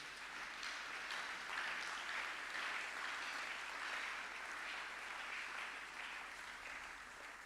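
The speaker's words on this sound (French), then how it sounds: "Acclamons pour notre Dieu." A church congregation applauds during a celebration worship service, a steady wash of clapping sustained for several seconds at moderate distance, with no voices standing out.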